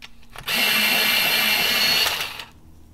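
A light blue colored pencil grinds in a small electric sharpener, one steady whirring burst of about two seconds that starts and stops abruptly, close and alone.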